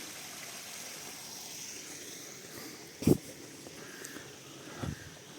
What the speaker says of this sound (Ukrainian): Шум води заспокоює.